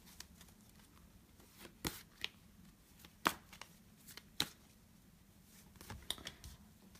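Tarot cards drawn from a deck, heard as a few faint, sharp snaps and soft rustles spaced irregularly over a quiet background, with no talking.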